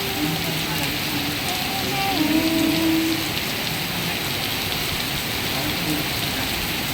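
Steady rain pours down in a dense, even hiss, with a few faint voices murmuring underneath.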